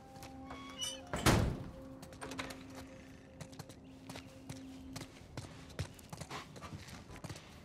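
A heavy door slams shut in the video game The Last of Us Part I. One loud, close thunk lands early, then softer clatters and light taps follow over a quiet game background.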